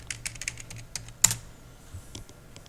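A computer keyboard is typed on up close as a login name and password are entered, giving a short run of quick, light key clicks with a few louder taps and no talk.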